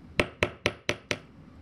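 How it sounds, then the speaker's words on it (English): Five evenly spaced, sharp metallic taps ring out as a hammer lightly flattens jewelry wire for a wire-wrapped hummingbird pendant, each strike crisp and close with a brief ringing decay. "So we're just going to hammer this out lightly"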